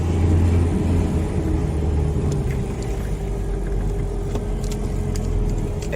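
A budget used car's engine running after the gas is pressed, a steady close low rumble and whir with no talk.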